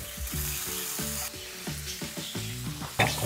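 A steak sears in butter in a pan, a soft steady sizzle beneath repeated low clinks and scrapes of utensils against the cookware, with a brighter clatter near the end.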